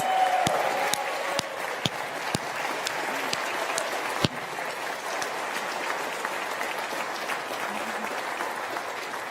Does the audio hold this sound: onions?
no